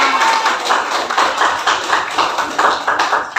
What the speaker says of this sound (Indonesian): Hei, tepuk tangan.